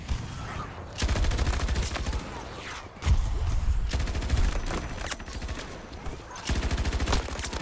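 Rapid automatic gunfire from a weapon in Battlefield 2042, loud sustained bursts of rattling shots with brief pauses between them, running for several seconds with no voices.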